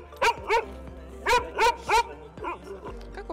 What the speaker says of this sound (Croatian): Kad govorimo o ruševinama, psi se uče da nakazuju sa lajanjem